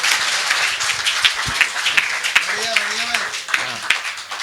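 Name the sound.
audience applause at a comedy poetry show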